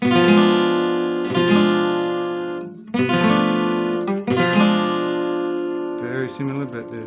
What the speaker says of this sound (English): Full diminished.